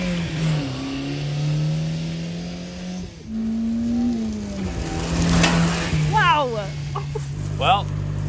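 A right-hand-drive, all-wheel-drive Subaru van with a manual stick shift revs up and drops back as gears change, its engine tone rising and stepping down several times, close and loud, with clucking chickens and brief talking partway through.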